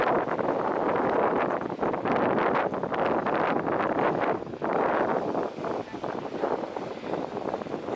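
Strong, gusting coastal wind at the tip of Borneo roars across the microphone, loud and continuous with brief lulls, buffeting constantly; faint voices may be buried underneath.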